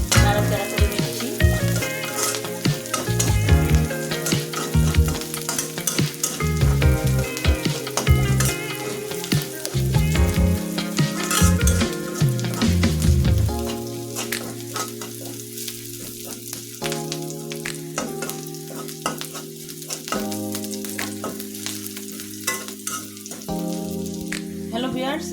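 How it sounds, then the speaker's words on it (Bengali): Onions fry in mustard oil in a pan, a loud continuous sizzle with stirring scrapes while steady tonal sounds, likely background music, play over it throughout. "পেঁয়াজটা ভালোভাবে নাড়াচাড়া করে নিচ্ছি"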